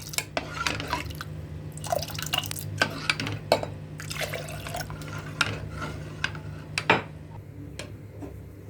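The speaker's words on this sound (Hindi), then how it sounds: "दूध के बाद इसमें जाएगा पानी।" Water poured into milk dal in a cooking pot, heard as scattered close drips and splashes with a few sharp clinks against the pot over a steady low hum, no voices.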